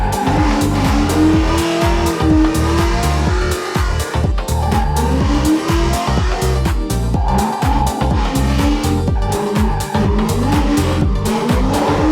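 Loud drift car engine revving hard with tire squeal and skidding at Thunder Valley Drift Park, continuous and close, shifting in pitch as the car drifts around the track.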